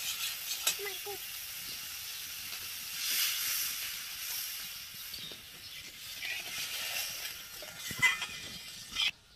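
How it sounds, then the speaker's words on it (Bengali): Water poured into a hot pan of fried cabbage sets off a broad, steady sizzle and hiss, with a few small clinks of a utensil near the end. "এই দেখো ভেজে নিয়েছি। এখন দিয়ে দিচ্ছি জল।"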